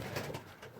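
Fancy pigeons, Trigonino and Lebanon birds, give a few soft, faint coos close by, brief and low against quiet background noise.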